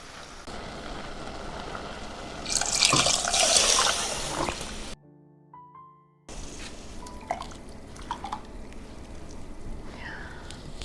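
Water pours into a pot of tomatoes for tortellini soup with a bright splashing rush, stops briefly under a quiet tonal interlude, then gentle sloshing and scattered clinks follow.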